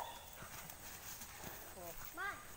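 Horse hooves clip-clopping at a walk on a road, a few soft irregular knocks beneath someone talking, with a brief high whinny-like call near the end.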